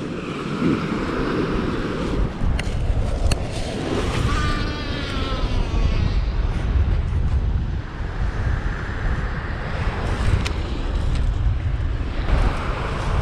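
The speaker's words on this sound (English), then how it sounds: "So the wind is not stopping," Heavy wind buffets the microphone beside the water during windy fishing, a steady loud roar with gusting rumble and faint lapping, no voices over it.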